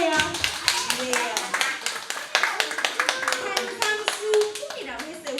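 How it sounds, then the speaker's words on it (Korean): Children clap together at a Sunday worship service for young kids, a short ragged burst of clapping mixed with an adult's voice and children speaking. "우리 친구한테 박수 한번 쳐줄까요?"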